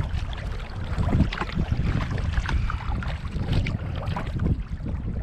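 Kayak paddling on a lake in a southwest wind, steady wind rumble and water wash close to the microphone with soft splashes throughout.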